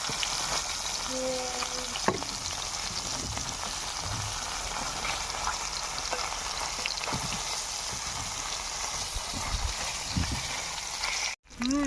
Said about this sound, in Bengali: একদম তেলে একদম দেখো চপ চপ চপ চপ করছে কোড়া কোড়া ভাজা হবে